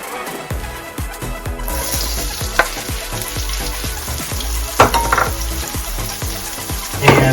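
Onion and mushroom fry in a pan with a loud, steady hiss and crackle, punctuated by frequent small pops and a few sharper clinks.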